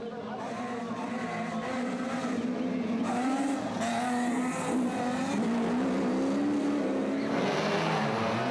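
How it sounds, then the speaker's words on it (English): Three Nissan rally cars racing flat out on the Lydenburg 400 rally, engines roaring continuously at high revs with rising and falling pitch through gear changes, loud and close throughout. "It was flat out from the word go, with the 3 Nissans chasing after Taylor and Houghton"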